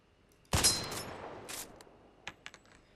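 A sniper rifle in the Roman Guns video game mod, a Gewehr 98 firing 7.92x57 Mauser rounds, lets off one sharp, loud shot with a long fading echo, followed by a few light metallic clicks.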